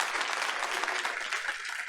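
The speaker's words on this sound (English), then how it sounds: "Let's give the whole family a round of applause." An audience at a Board of Education meeting applauds a student's family, with a steady, dense burst of clapping from a sizeable room that holds an even level throughout.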